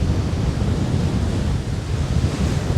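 Sea waves wash steadily onto the shore at Groudle Glen on the Isle of Man, a dense, continuous roar of surf mixed with wind buffeting the microphone.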